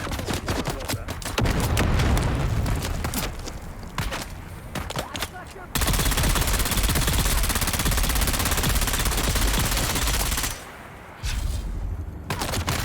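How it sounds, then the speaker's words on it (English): SMG fire in the video game Dune: Awakening, rapid automatic bursts loud and close, broken by short pauses and resuming in sustained streams, with a speaking voice at times. "I like using this SMG, but it does seem to be a bit problematic at range"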